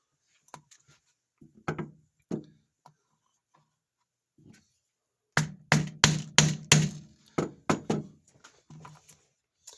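Hammer blows strike a rivet on an anvil while it is set into a round head: a few scattered taps first, then a rapid burst of about eight sharp, ringing metallic strikes close by.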